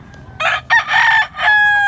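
A gamecock rooster at a fowl sale in Cebu crows once nearby in a loud, multi-part call with a rising opening and a long drawn-out finish.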